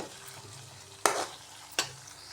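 Onions, chillies, ginger and garlic sauté in a pan, giving a quiet steady sizzle broken by two sharp stirring scrapes of a spoon against the metal.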